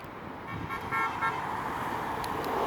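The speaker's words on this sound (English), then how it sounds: "you go right on the side of the road and you hear honking behind you" A vehicle horn honks from behind on a roadside, a few short toots rising over steady traffic and road noise.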